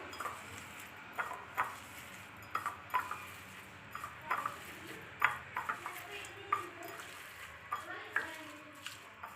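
Chili powder, salt and greens being mixed by hand in a bowl, soft irregular clinks and rustling squelches, close and quiet, with faint speech in the background.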